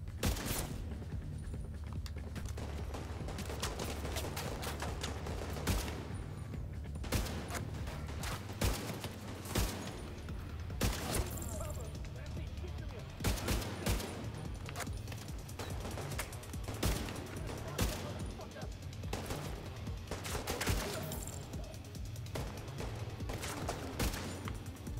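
Gunfire in the video game Division 2, bursts of rapid shots and scattered single reports over a constant low rumbling backdrop, fairly quiet and dense throughout, with no one speaking.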